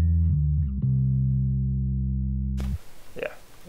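An inexpensive Fender Squier electric bass run through amp-modelling effects plays a few low notes, then sustains one deep tone for about two seconds before it cuts off into brief rustling noise; clear and up close.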